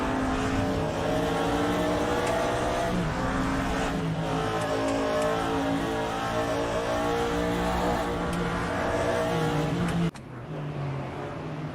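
Audi DTM race cars racing at Zandvoort, loud engines roaring steadily at close range with shifting pitch as they rev through gears, then an abrupt drop in level near the end.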